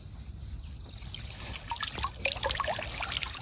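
Water trickles and splashes softly as freshly trapped shrimp are rinsed, a close, steady dribble that grows busier with light sloshing toward the end; no talk.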